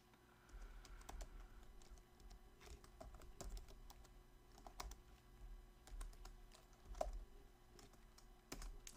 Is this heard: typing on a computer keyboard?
yes